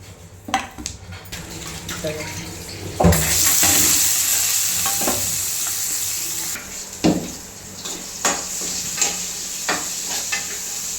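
Oil sizzles steadily in a pan as small onions and garlic fry, while a spoon stirs and scrapes, with occasional clinks of utensils against the pot.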